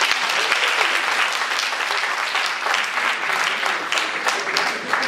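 An audience at an eloquence contest final applauds loudly and steadily, dense clapping filling the hall without pause for the whole stretch.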